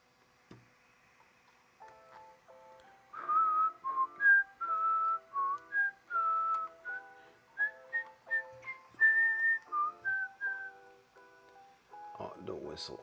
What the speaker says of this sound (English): don't whistle on the stream